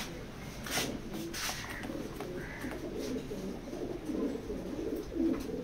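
Racing pigeons in a loft giving soft, repeated cooing at close range, fairly faint, with light rustling and shuffling between calls.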